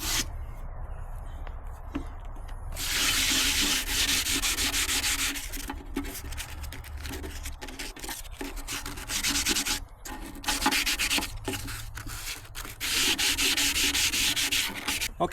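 Steady hand sanding with 220 grit sandpaper on a 1952 Chevy truck part, a close, continuous scratchy rubbing in long back-and-forth strokes with brief pauses, no talking.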